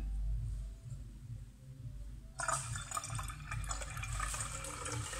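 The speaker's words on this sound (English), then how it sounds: "And now I'm going to mix equal amounts of solutions together." Chemical solutions of sodium hypochlorite, sodium chlorate and potassium chloride are poured and mixed together, starting with a low hum and then turning into a sudden, sustained splashing, gurgling flow of liquid partway through.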